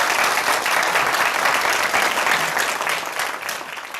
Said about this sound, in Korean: 여러분 박수 한번 주시기 바랍니다